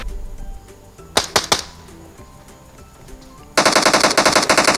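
Gunfire in the PUBG Mobile training ground: a few sharp loud shots early, a quiet stretch, then a sustained rapid burst of automatic fire to the end.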